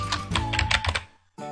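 Rapid keystrokes clatter on a computer keyboard in a quick burst of clicks, break off into a brief pause, then resume with another short press, close and clear with no voices.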